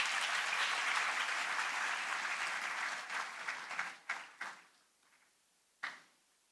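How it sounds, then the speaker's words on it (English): Audience applause at a university induction event, a dense burst of clapping that fades into scattered last claps and a final lone clap. "So a huge clap for SOB for the ranks which they have got."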